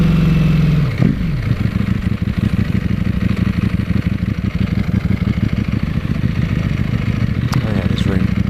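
A Ducati Panigale V4S motorcycle engine thunders loudly and close, revving once then settling into a steady pulsing, clattering run as the bike moves on a gravel track, with a brief throttle blip near the end.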